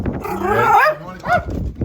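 A dog barks and whines outdoors on a windy, stormy coastal day, making one drawn-out vocal bark followed by a shorter yelp, close and fairly loud.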